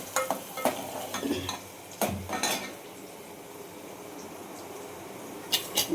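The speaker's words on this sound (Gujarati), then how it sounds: "ડુંગળી ટમેટા અને લસણનો વઘાર" Soft, steady sizzling of onion, tomato and garlic frying in oil for a chana dal tempering, with clattering utensil scrapes and stirring knocks over it; no voices.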